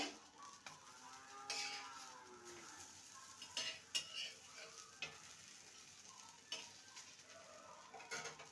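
Breakfast pancakes frying in a pan, a soft low sizzle broken by intermittent clicks and metallic scrapes of a utensil as they are flipped, fairly quiet and close, with no talking.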